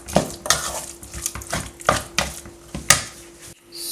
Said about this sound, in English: I add my crayfish and my Calabash nut milk. I stir to give it a good mixture.